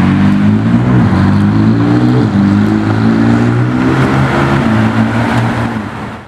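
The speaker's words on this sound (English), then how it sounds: "Got the F8 leaving." A Ferrari F8 drives away with a loud, close engine note that holds a steady drone, shifts pitch partway through, and fades at the end.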